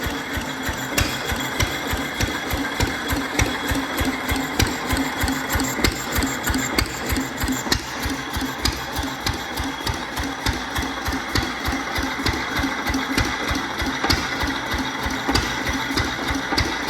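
A Fairbanks Morse 3 hp stationary engine idles steadily and close by, its rapid regular firing beats carrying a light clatter of gear noise throughout with no talk.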